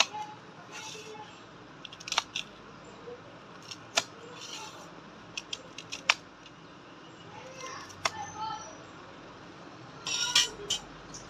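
A crisp khakhra pizza topped with sev is cut, producing sharp crunchy cracks and snaps at irregular intervals over a quiet kitchen background.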